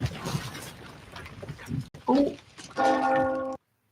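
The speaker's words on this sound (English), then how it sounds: "there's the bell" A bell rings out in a short film, its steady resonant tone lasting nearly a second near the end after speech and other sounds.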